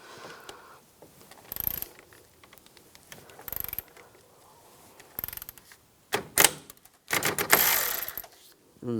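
A ratchet with a 10mm socket works bolts loose on a 2004-2009 Toyota Prius during a radiator replacement, giving close, intermittent bursts of quick clicking separated by quieter handling noise.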